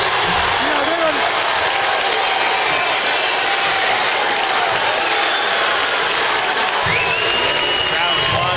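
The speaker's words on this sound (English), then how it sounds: "The crowd applauds." A crowd applauds during a boys' high school basketball game in a gym, sustained loud clapping and cheering filling the space for several seconds while a commentator talks over it.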